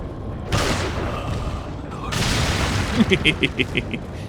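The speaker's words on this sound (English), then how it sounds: "Explosion." Explosions in the video game Resident Evil 4: two loud broadband blasts, the second followed by sustained debris rumble, then a rapid series of sharp clanging hits near the end.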